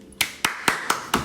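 Five sharp hand claps ring out at a slow, even pace, close and crisp against a quiet background.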